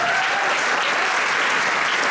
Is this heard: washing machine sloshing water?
no